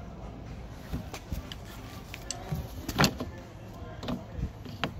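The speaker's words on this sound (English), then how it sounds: "just start prying it up. And the corner piece comes out first" A plastic corner trim piece being pried off the rear door handle of a 2015-2020 Mercedes-Benz GLA (X156), giving scattered close clicks and sharp snaps, with a louder crack in the middle and quieter taps on either side.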